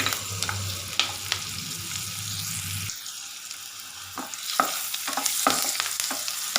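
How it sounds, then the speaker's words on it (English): Chili, garlic and ginger sauté for paneer butter masala, a close, crackling sizzle broken by sharp stirring scrapes and clinks; the frying hiss drops off partway and quieter spoon knocks continue. "Let it saute a bit."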